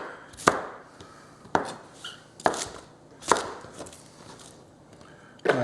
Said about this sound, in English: then we're going to cut them in 3 pieces